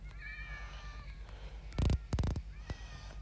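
Cats in a video game meow several times, with drawn-out tonal cries early on followed by a burst of louder, closer meows and a faint trailing call over a low background hum.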